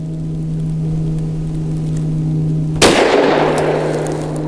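A single loud gunshot firing Liberty Civil Defense 9mm ammunition at an outdoor range cracks sharply over a steady low hum, then rings and decays for over a second. No speech.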